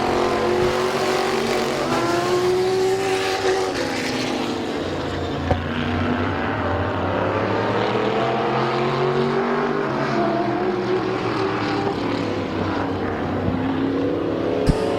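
Stock cars race at Midvale Speedway, their engines roaring loudly and continuously. Overlapping engine tones rise and fall as the cars accelerate and pass, with no talking heard.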